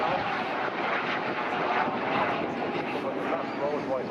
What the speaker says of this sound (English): Rolls-Royce Viper engine with manual slide controls.